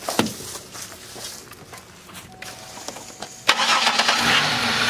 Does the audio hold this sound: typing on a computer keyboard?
no